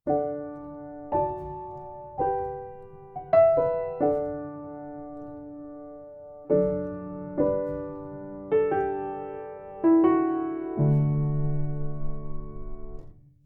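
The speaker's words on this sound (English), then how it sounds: "Logic Studio Piano using the vintage upright," A Logic Studio Piano vintage upright virtual instrument plays notes and chords struck one at a time with gentle decays, a slow, sparse phrase alone in a quiet room.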